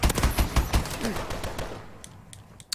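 Rapid automatic assault rifle fire in Advanced Warfare, a loud, close burst of evenly spaced shots that tails off into fainter scattered pops, with a brief spoken remark.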